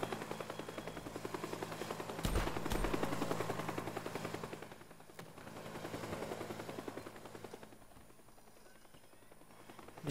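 Helicopter rotor chop mixed with rapid bursts of gunfire in the destructible voxel video game Teardown, a dense rhythmic clatter with a sharp loud burst early on, then a steady churning roar that eases slightly toward the end.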